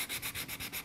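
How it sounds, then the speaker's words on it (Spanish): Cloth-backed sandpaper rubbed in fast, even back-and-forth strokes, about eight rasping passes in under a second, close and steady with no voices. "voy a tomar una lija, estas que tienen tela por detrás. Y acá, chicas, vamos a sacar fuerza, vamos a comenzar a lijar."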